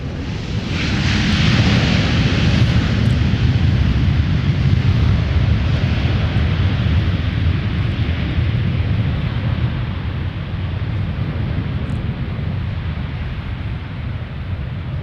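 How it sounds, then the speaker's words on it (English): Southwest airliner touching down at MSP airport after a flight from Austin, a loud, sustained broadband jet roar that swells early and then slowly fades as the aircraft rolls out. "here's a look at Southwest. Touching down from Austin"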